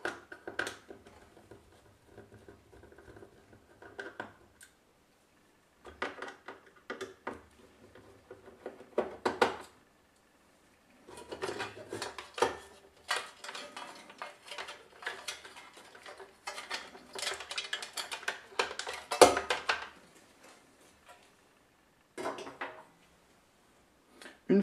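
A steel cover comes off a compact Intel Thin ITX all-in-one PC case in scattered bursts of metallic rattling, clicks and scraping, close and moderately loud, with short pauses between handling sounds.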